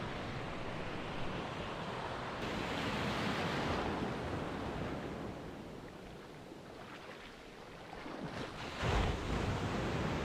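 Ocean waves at Fortescue Bay, Tasmania, a continuous broad roar of surf washing ashore with rising and falling swells and some wind buffeting on the microphone, no voices.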